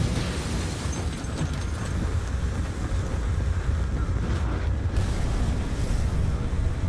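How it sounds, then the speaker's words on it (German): Strong wind roars continuously in the Battlefield 4 shooter game, a dense, steady rushing gust that fills the whole stretch without pause. "Ei, ist das windig."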